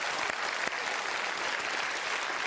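A studio audience on an Irish chat show applauds as a round of thanks to the production team, steady dense clapping filling the room at an even level throughout, with no voices over it.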